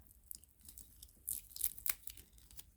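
Crisscrossed packing tape rips off the package of a Coach handbag in several quick, crackling bursts, loudest in the middle stretch, close to the listener and with no talking.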